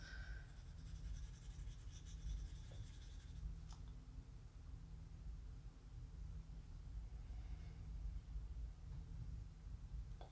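Colored pencil burnishing lighter colors on paper, a faint, steady scratchy rubbing close up over low background hum, with a few soft taps.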